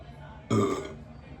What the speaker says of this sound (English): you've literally burped so many times just then